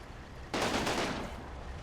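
Burst of half-track gunfire in Combat Mission: Battle for Normandy, a dense rattling volley starting abruptly and sustained for about a second before tapering off, fairly close with no talk.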